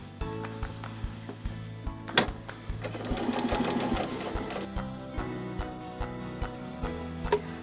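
A sewing machine stitches a tote bag seam with a steady run of mechanical ticking, speeding up and slowing down, with a brief whirring stretch in the middle. The machine is close and clear, and no one talks.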